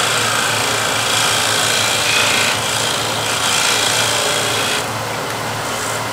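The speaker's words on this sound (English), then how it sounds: "Now with the spindle gouge I can thin the nut just a little bit more." A spindle gouge thins a wooden nut spinning on a lathe, giving a steady close rasping scrape over the lathe's motor hum that eases off slightly near the end, with no talk.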